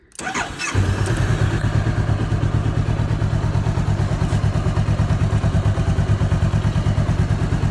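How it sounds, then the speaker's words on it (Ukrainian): A two-cylinder motorcycle engine, a Honda CBR400R, cranks and fires up, then settles into a loud, close, steady pulsing idle throughout with no voices. "Двохциліндровий, дуже гарний звук."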